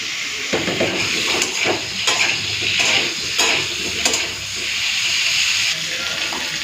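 Potatoes and cauliflower fry together in a pan, making a steady loud sizzle and hiss with periodic scrapes from stirring. The sound is close and continuous.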